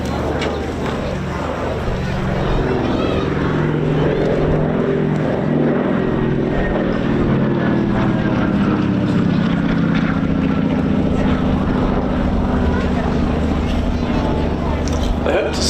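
A vintage all-metal twin-engine propeller airliner from the early 1930s runs with a loud, steady engine drone at an airshow, a continuous roar carrying throughout while a commentator talks over it.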